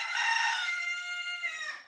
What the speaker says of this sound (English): there's a rooster crowing where she is.